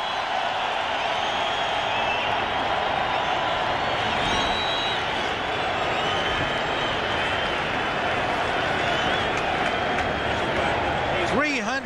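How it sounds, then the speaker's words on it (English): A football stadium crowd in Cleveland gives quarterback Ernie Kosar a standing ovation, a dense, sustained roar of cheering and applause that fills the whole stretch, with a commentator's voice running over it. "the crowd gives Kosar a standing ovation"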